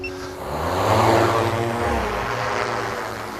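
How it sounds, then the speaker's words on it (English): A thermal imaging drone flying over woodland, heard as a steady propeller-like engine drone that swells louder and then holds, with no talking. "undertake the first ever aerial survey of their numbers using thermal imaging drones"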